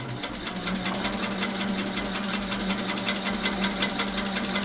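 A sewing machine runs steadily through free-motion quilting, stitching a quilt sampler with a fast, even needle rhythm and a low motor hum throughout, close and continuous without pauses.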